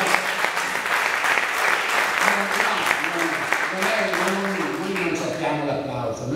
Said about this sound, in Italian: applauso, applauso.